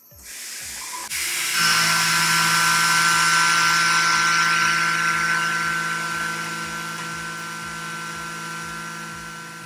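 A Tormach PCNC mill cutting metal at a 0.3 inch depth of cut, 18 inches per minute, a loud steady whining hiss with rapid rhythmic tool pulses that starts abruptly after about a second and slowly eases, with no speech.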